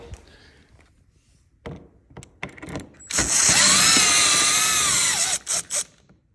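A power driver whines loudly for about two seconds while backing out T25 Torx screws on a 2024 Ski-Doo Backcountry 850 snowmobile, preceded by a few short bursts and clunks of handling.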